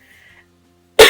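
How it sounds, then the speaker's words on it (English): A single dry, tickly cough bursts out sharply after a near-silent pause, close and loud, with faint background hum before it. "I keep coughing at the moment since Monday"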